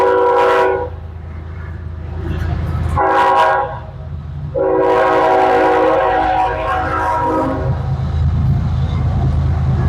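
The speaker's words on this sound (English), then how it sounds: "people are coming in by train for the talk." A train rolls past outdoors with a steady rumble, and its horn sounds in three loud blasts, the last one long and held.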